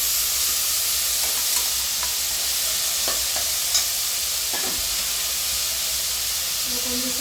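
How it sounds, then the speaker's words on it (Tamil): Grated ginger paste frying in a pan for a vegetable biryani, a steady soft sizzle and hiss throughout with occasional light scraping taps of stirring, close and continuous with no talk. "அந்த பேஸ்ட்டையும் சேர்த்து கொஞ்சம் வதக்கிடலாம்"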